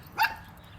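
A dog gives a single short bark, fairly faint and brief, against a quiet indoor background.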